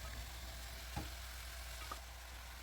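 A soft, steady sizzle of parsley frying in a pot as chicken is placed on top, with a couple of faint clunks, quiet throughout.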